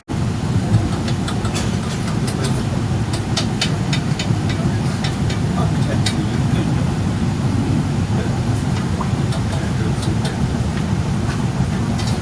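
AC double decker express train running at speed: a steady low rumble of wheels and car body with rattles and intermittent clicks and squeaks, loud and continuous.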